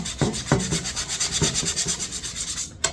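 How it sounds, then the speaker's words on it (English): Sandpaper rubs by hand across a reclaimed wood cutting board in quick, rhythmic back-and-forth strokes, close and crisp, with a few soft knocks between passes. "and do a little hand sanding."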